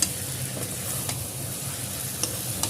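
Masala with prawns and kochur loti sautés in a pan, a close continuous sizzle punctuated by a few quick scraping stirs of a spatula.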